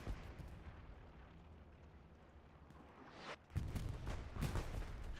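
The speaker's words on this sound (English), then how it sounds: "This could be a decent bombing run." Explosions from a bombing run during a Hell Let Loose match on Omaha Beach, with rumbling distant blasts followed by a louder, closer burst of heavy booms.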